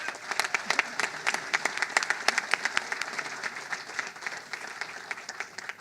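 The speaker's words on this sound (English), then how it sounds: "you guys were clapping" Applause from an audience at a Los Angeles Clippers press conference, steady dense clapping with sharp individual claps standing out throughout, moderately loud and close, with no talk over it.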